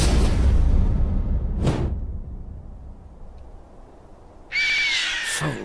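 Bloodwing, a bird companion in the video game Borderlands 2, gives two sharp, sweeping screeches a few seconds apart over a rumbling game background, with a louder cawing cry at the end, close and with no talk.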